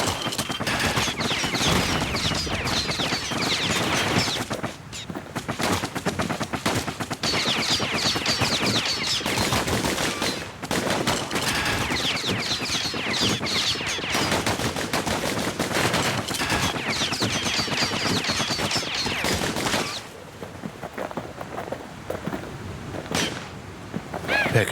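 Rapid gunfire from the Kid's guns in the action video game Bastion, dense continuous automatic bursts that fill nearly the whole stretch, loud and close, with a brief lull near the end.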